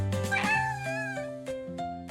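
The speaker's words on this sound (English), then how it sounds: "The cat says meow." A white cat in a garden meows in a drawn-out, pitch-bending call, part of a children's story and heard over steady musical tones with no talking.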